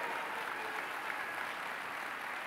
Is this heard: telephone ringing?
no